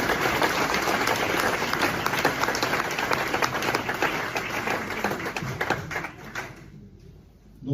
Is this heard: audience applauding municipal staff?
yes